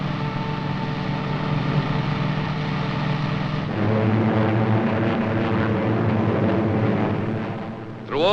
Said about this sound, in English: Allied planes, thousands of them, continued to soften enemy defenses and communications in daily raids.